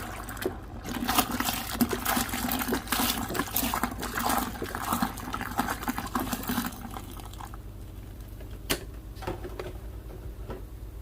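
Hot water pours in a steady splashing stream for several seconds, then stops, leaving quieter trickles and a few clinks.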